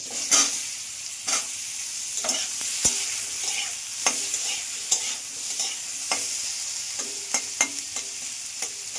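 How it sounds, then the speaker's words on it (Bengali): Chopped apple sizzles steadily in a hot pan while a spoon scrapes and stirs in frequent, uneven knocks, close and clear with no voices. "এটা একটু হালকা ভাজা ভাজা হয়ে যাবে"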